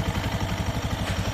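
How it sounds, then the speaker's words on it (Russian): Engine of an IRBIS 200 PRO quad bike with a balance shaft, running at a steady idle with a continuous, even low rumble and light mechanical clatter, close up and with no talking. "Мотор с балансировочным валом достаточно приятно работает"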